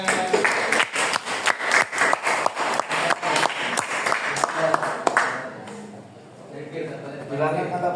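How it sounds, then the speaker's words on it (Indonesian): A classroom group of students claps for a presenting team, a burst of steady rhythmic hand claps lasting about five seconds before fading into quiet room noise and murmur. "tepuk tangan untuk kelompoknya"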